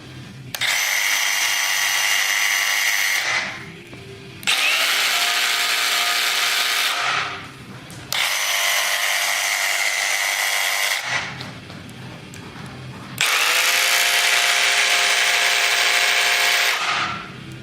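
DeWalt and Milwaukee jigsaws run one after another in a shop, four loud bursts of high buzzing motor whine with short quiet gaps between them, close and unaccompanied by speech.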